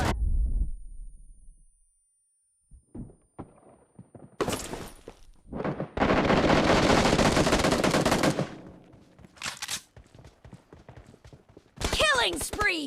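Gunfire in the BGMI mobile shooter's team deathmatch mode, with rapid automatic bursts and single shots in loud clusters, separated by short gaps and mixed with game voice lines.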